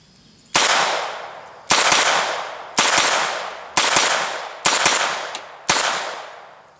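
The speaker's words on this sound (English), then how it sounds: "So now I'm going to go ahead and just do a quick rapid fire." Six sharp .22 pistol shots from a Beretta Neos U22 at an outdoor range, fired in a steady rapid string about one second apart, each loud crack trailing into a decaying ring, with no talking.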